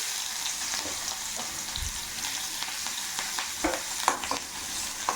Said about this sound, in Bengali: তেলটা গরম হয়ে এসেছে আমি এর মধ্যে দিয়ে দিলাম কালো জিরে ফোড়ন এরপরে দেব অল্প একটু পেঁয়াজ কুচি